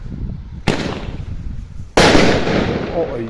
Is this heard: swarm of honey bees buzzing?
no